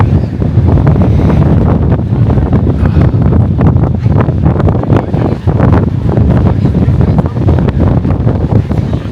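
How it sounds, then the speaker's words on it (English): Strong coastal wind near Cape Town batters the microphone in loud, continuous rumbling buffets that swell and dip without letup, drowning out any other sound. "Wow, incredibly windy."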